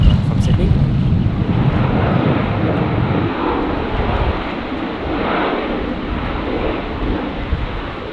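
A Rex passenger plane touches down on runway 19 left at Brisbane Airport on a windy day, a broad roaring rumble that is strongest at first and then eases off, with a voice heard over it.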